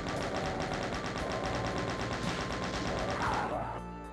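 Rapid, continuous bullet-weapon gunfire in Doom II, loud and rhythmic, a dense stream of repeated shots that runs steadily for several seconds before cutting off near the end.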